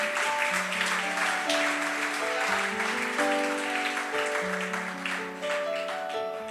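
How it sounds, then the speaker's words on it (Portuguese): A church congregation claps steadily in praise for several seconds, the applause dense and continuous beneath sustained organ or keyboard chords. "Aplauda Jesus se você quer também."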